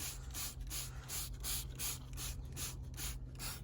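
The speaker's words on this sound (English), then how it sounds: "Now let's spray this over here." A stain remover spray bottle is squeezed over and over in a steady rhythm, each short hissing spritz close and crisp, about eight to ten bursts in quick succession with no talking.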